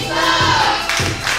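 Crowd noise at a ProSouth Wrestling event, a loud, steady roar with rising whoops and cheers from a packed audience awaiting Hollywood Donnie's entrance, continuous across the moment.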